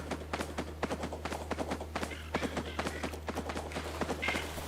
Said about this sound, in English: He's flapping his wings up against that blind.